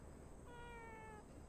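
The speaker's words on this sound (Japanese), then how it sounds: "猫？" Cat giving one short, clear meow over steady background hiss, fairly faint and close, with no one speaking.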